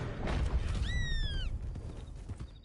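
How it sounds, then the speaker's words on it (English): Loon call in the Red Dead Redemption 2 video game: a single wavering, rising-then-falling tremolo cry lasting about a second, heard over steady low ambient rumble, with faint bird chirps afterward. "That's a loon."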